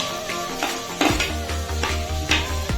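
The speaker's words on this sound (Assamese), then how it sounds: "এতিয়া কেৰাহীত দিছোঁ পিঁয়াজ" Onion frying in oil in a kadai for a paneer paratha stuffing, a close sizzle with repeated metallic clanks and scrapes of a spoon stirring against the pan.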